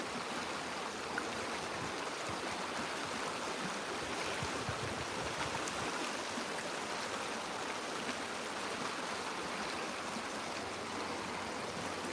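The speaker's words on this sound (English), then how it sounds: "We have some water flowing here." A stream flows steadily at an outdoor hiking spot, giving a continuous, fairly close rushing and burbling with no breaks and no voices.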